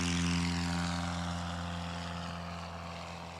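A propeller-driven bush plane drones overhead during an EAA land and take off competition, its engine a loud steady hum that fades slightly as it moves away, with no voices.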